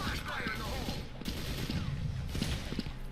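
Gunfire in the browser FPS game First Blood, bursts of rapid shots and crackling impacts running continuously beneath a muffled, busy game mix.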